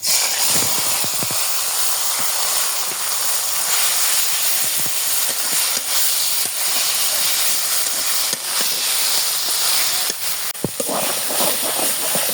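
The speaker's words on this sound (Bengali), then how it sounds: "এখন এই শাকটা দিয়ে দেব।" Leafy greens (fresh shak) hit a hot pan at home and sizzle with a steady, loud hiss and scattered crackles and pops, close up, with no talking.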